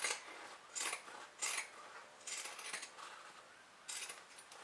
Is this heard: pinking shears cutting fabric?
yes